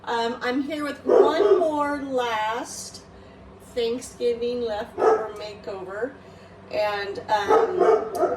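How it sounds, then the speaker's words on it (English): Dogs bark and yip in the background of a home kitchen while someone talks over them almost continuously, the barks short and intermittent beneath her voice. "Sorry for the dogs."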